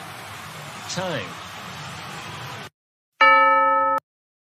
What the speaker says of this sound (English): the word chime is a ringing sound made by a bell, especially when it is part of a clock.